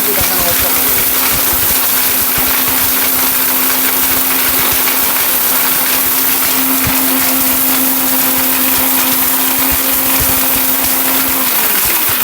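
A small electric blender grinds hard turmeric pieces with a continuous, loud, droning whir. The motor keeps a steady pitch and winds down near the end, with speech in the background.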